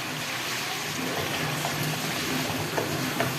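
Washed pieces of deshi (country) chicken going into a hot pan for a Bengali chicken curry, giving a steady, close, bright sizzle with faint stirring scrapes.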